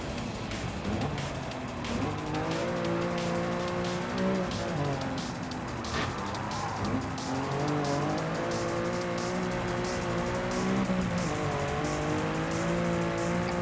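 A 1988 Lamborghini Countach 25th Anniversary races in Gran Turismo, its engine droning and rising and falling in pitch through corners, with tire squeal and skidding over a steady, loud, continuous bed of sound.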